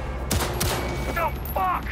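Rapid gunfire in the video game Cyberpunk 2077, with several sharp shots in quick succession, close and loud, layered over a continuous rumbling game soundscape and brief chirping effects.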